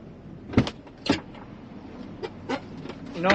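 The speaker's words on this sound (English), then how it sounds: "I think it's my door hinges squeaking." Car door hinges give several short, high squeaks in irregular bursts inside a storm chaser's vehicle, over a low road rumble.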